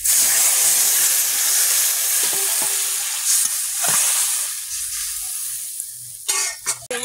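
Water poured into a hot pan of frying potatoes bursts into loud, steady hissing and sizzling that slowly eases, with a few clinks of a stirring utensil.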